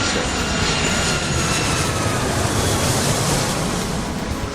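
Aircraft engines droning steadily as planes taxi toward a runway in an airport-control game, a dense, even roar with a wind-like rush and no breaks.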